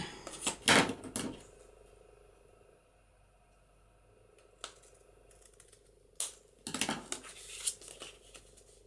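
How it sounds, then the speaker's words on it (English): Scissors snip through paper in a few short bursts separated by quiet gaps, close and crisp against a faint background hum. "Let's just cut a piece from here,"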